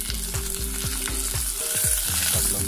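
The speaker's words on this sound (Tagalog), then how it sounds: "Lagyan na natin sibuyas. Sutay lang natin." Onions sauté in hot oil for chicken afritada, a brief, constant sizzle with a low rhythmic tonal pulsing beneath it and no talking.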